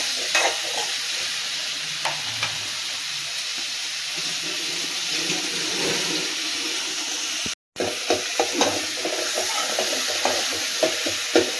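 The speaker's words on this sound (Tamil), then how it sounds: "தக்காளி வெங்காயம் நல்லா வதங்கட்டும்" Onions and tomatoes sizzle in a pan with a steady hiss, interrupted by scraping stirs and a brief silent gap.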